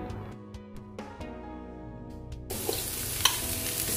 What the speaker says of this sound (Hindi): अब मैं इन तमाम सब्जियों को थोड़ा सा पकने दूंगी।